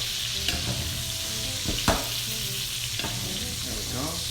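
Sausage browning in a pan for shrimp and grits, a loud continuous sizzle close up with occasional spatula scrapes and stirring knocks.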